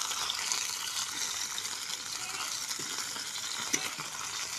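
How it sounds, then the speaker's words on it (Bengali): Fish fries in oil over a dry-wood fire, a steady, fairly quiet sizzle with occasional pops of spattering oil. "আবার তেল মুখে ছিটকাচ্ছে।"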